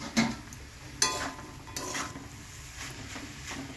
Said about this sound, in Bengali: মশলাটার সঙ্গে সবজিটা ভালো করে কষিয়ে নেব